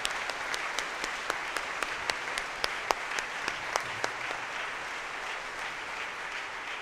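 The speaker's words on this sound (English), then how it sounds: "Please give her a round of applause." A concert audience applauds an opera singer with sustained, even clapping and a few sharper individual claps standing out, steady from start to finish.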